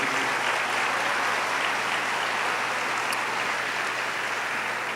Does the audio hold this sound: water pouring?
no